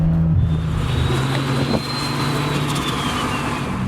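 A steady engine drone from a 680 wheel-horsepower, 2JZ-powered Nissan S14, with a high whine that rises and then slowly falls as the turbo spools up and winds down.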